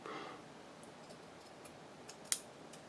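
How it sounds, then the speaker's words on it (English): Scissors cut paper for a handmade birthday card: faint, soft snips spaced through a quiet room, with one sharper snip near the end. "It's going to be sad to cut this"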